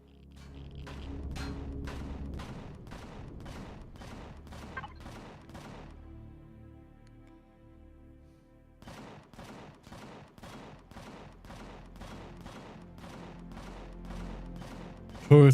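Turrets and mounted weapons in Empyrion Galactic Survival fire in rapid volleys of sharp, repeated shots, a steady burst that breaks off for a few seconds and then resumes with a loud thump at the end.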